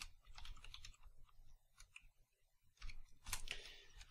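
Keyboard typing on a computer while coding, with quiet irregular bursts of key clicks spread across a few seconds, pausing in the middle and picking up again near the end.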